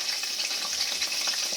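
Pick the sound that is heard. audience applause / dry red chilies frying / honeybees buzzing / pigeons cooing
dry red chilies frying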